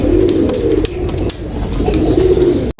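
Pigeons in a loft coo softly and continuously, with overlapping low throaty calls close by and a few faint clicks and rustles in the background.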